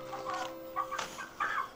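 A rooster gives a few soft, close clucks in short bursts against a quiet background hum.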